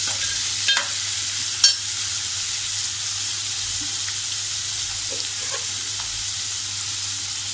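Dal being sautéed in a pan for a ridge gourd dish, giving a steady moderate sizzle with a few light scraping and stirring knocks.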